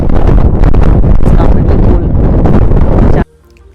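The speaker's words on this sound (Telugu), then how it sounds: "చాలా గాలి కూడా వస్తుందన్నమాట" Strong wind buffets the microphone outdoors in Chikkamagaluru, roaring loud and continuous for about three seconds before cutting off abruptly.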